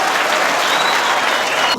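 Studio audience at a student quiz show claps after a correct answer, a loud, dense burst of many hands that stays even for its short length, alone without speech.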